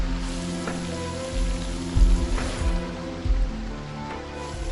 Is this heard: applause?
no